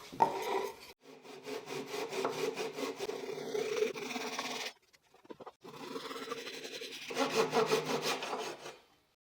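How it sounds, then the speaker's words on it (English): A Japanese handsaw cuts off leftover pine tips in quick back-and-forth rasping strokes, close and rhythmic, in two bursts separated by a short pause. "Using a Japanese handsaw, I'll remove the leftover tips."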